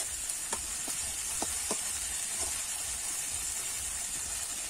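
Masala spices sizzling steadily as they fry in a pan for a jackfruit kofta curry, a continuous bright hiss with a few small pops and crackles, close and alone.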